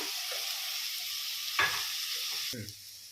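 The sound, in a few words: chopped tomatoes frying in ivy gourd curry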